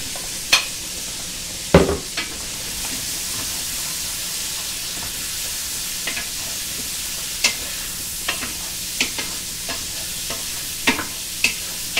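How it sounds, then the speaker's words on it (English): Penne and cherry tomatoes sizzle steadily in a hot pan, and occasional sharp clinks and scrapes of a utensil stir through the constant frying hiss. "We're also going to add our little cherry tomatoes so that they cook all the way through."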